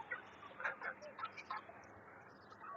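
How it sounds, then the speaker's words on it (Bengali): Laying hens in a small caged chicken farm on a rooftop garden cluck and squawk in short repeated calls while eating in the afternoon, fairly faint over low background noise. "আমার ছাদ বাগানের ছোট একটা মুরগির খামার মুরগিগুলোকে বিকালে খাবার দেওয়া হয়েছে"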